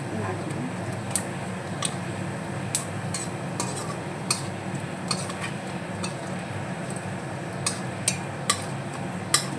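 Whole cumin is stirred in a wok, a steady scraping rustle marked by repeated light metallic clinks of the spatula against the pan, with a faint sizzle beneath.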